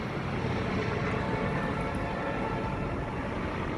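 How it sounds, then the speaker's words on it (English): A helicopter passes overhead, a loud, continuous rumbling drone with a steady engine hum that neither fades nor swells, and no one speaks. "Helicopter."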